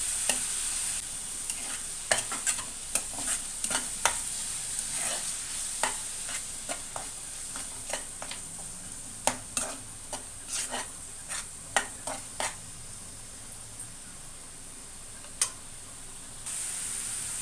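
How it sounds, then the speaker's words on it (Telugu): Onion paste and coconut paste fry in a pan with a steady bright sizzle, broken by frequent sharp scrapes and clacks of a stirring spoon, close up with no talking. "ఇప్పుడు ఇందులో ఉల్లిపాయలు ముద్ద, కొబ్బరి ముద్ద వేస్తున్నాను. ఇది కూడా బాగా వేగాలి."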